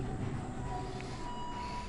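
A tram rolls along its rails in a survival video game, giving a steady low rumble of wheels on track with a faint metallic squeal, continuous and fairly close, with no talking.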